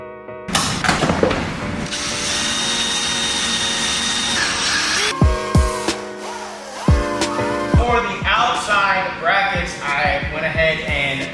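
A power drill drives a self-tapping screw through a metal bumper bracket into a vehicle fender, whirring loudly for a few seconds, then short clicking bursts, with someone talking afterward.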